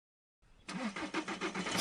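A car engine cranks and catches, then runs with a rough, pulsing idle at close range, preceded by a brief rustle; no one speaks.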